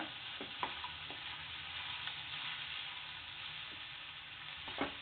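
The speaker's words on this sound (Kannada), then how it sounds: "ಈಗ ನಾನು ಎಲ್ಲ ತರಕಾರಿಗಳನ್ನ ಹಾಕೊಳ್ತಾ ಇದ್ದೀನಿ. ಈಗ ಇದನ್ನ ಫ್ರೈ ಮಾಡ್ಕೊಳ್ಳೋಣ." Vegetables frying in a pan for egg fried rice give a steady, close sizzle with a few soft stirring scrapes and clicks, and no voices.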